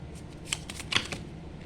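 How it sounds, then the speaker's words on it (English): Tarot cards are drawn and shuffled by hand, giving a quick run of crisp papery flicks and slaps at close range. "I'm gonna take one more card."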